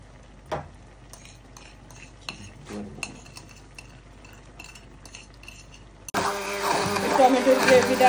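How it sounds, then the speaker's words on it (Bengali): An electric blender roars to life, loud and sustained, while blending tomato gravy for a restaurant-style butter chicken. It follows several seconds of quiet kitchen clinks and taps. "টমেটোর গ্রেভিটা ভালোভাবে ব্লেন্ডার করে"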